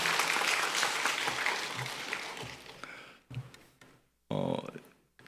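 A church congregation claps steadily for about three seconds, fading out, followed by a few scattered claps and a brief final burst.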